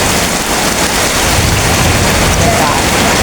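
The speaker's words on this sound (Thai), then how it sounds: "พี่น้องฝนตกบักคักเลยพี่น้อง" Heavy rain pours down in a dense, loud, unbroken roar of hiss and splatter, with no pauses.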